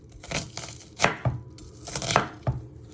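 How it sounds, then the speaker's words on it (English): A knife chops finely through chicken and spinach saag ingredients on a chopping board, several crisp separate strikes in an uneven rhythm, close and clear with no talking. "then you just want to finely chop it, go all the way through"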